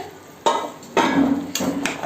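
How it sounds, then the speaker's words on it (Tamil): Metallic clanks and a hissing rush as a pressure cooker lid is worked open on mutton biryani, several short bursts in quick succession, close by. "நம்ம குக்கரை திறந்து பார்க்கலாம்"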